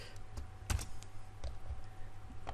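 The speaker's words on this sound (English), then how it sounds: "I apologize for my keyboard thumping." Someone thumps at a computer keyboard with two fingers, a slow, irregular run of separate key taps, one heavier than the rest, over a steady low hum in a quiet room.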